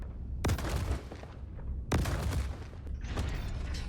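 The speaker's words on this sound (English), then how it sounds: "Fire more missiles." Two loud launch bursts, about a second and a half apart, as missiles fire from an Ares Inferno ship in Star Citizen, each trailing into a rushing roar, followed by lighter mechanical clatter.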